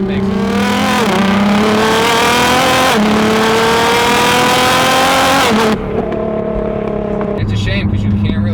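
A tuned 700 HP Nissan GT-R engine revs hard and loud, pitch climbing in long sweeps, then drops to a throatier idle near the end.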